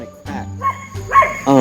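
A dog barks a few times in a room, short sharp yelps rising over a person talking, the barks fairly close and loud toward the end.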